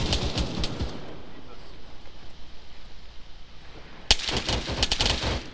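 Gunfire in the military video game ARMA 3, with bursts of sharp rapid shots at the start and again near the end around a quieter stretch, loud and close, with voices talking among the shots.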